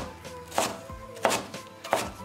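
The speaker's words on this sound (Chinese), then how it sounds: "切成丝以后再切成这种小碎丁" A kitchen knife dices winter melon on a cutting board with three firm, evenly spaced chops, close and crisp, each with a short wooden knock.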